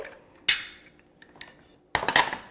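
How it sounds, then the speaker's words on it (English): Utensil stirring lime juice in a bowl, two sharp clinking bursts of metal against the bowl with light scraping taps between them, close and otherwise quiet. "Stir it up and set it aside."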